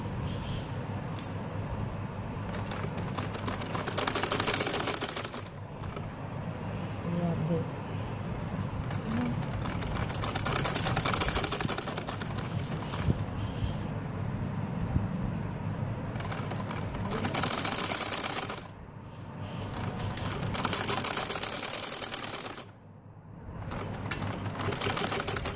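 A sewing machine stitches piping along the edge of a ban (band) neckline, its steady motor whir running almost continuously with a few brief pauses, close and moderately loud.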